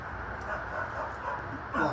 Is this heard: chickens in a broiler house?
no